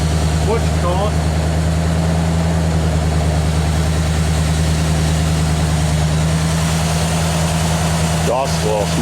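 Right after installation, a 1987 Ford Bronco engine holds a steady, loud, low idle with a droning hum throughout, while voices talk over it at moments.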